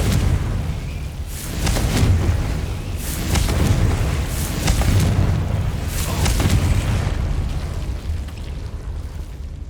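Fiery Confringo blasting spells from the Hogwarts Legacy video game go off in a quick run of sharp, booming bursts, several in a row over a steady rumbling game backdrop.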